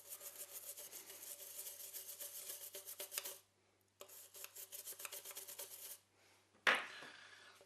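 Brisk back-and-forth scrubbing of greasy residue on a Macintosh SE/30 circuit board with white spirit, fast rasping strokes in two bursts separated by short pauses, close and quiet, ending with a sharp scrape.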